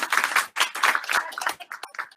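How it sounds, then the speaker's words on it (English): A group claps their hands during a Simon Says energizer game, a close burst of quick, uneven clapping with short gaps, loud at first and trailing into scattered claps. "Simon Says, clap your hands"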